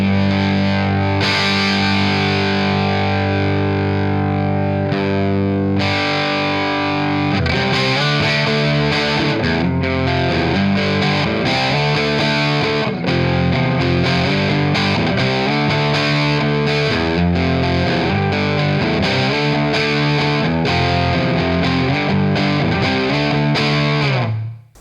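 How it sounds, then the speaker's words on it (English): A PRS SE Zach Myers electric guitar with humbucker pickups, played through an amp's crunch channel, chugs and rings out overdriven chords and riffs for about twenty-five seconds, loud and upfront, with no talking, then cuts off abruptly. "I'll go over onto the crunch channel and give you some nice crunchy"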